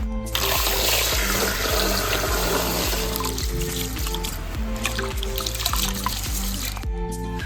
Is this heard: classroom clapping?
no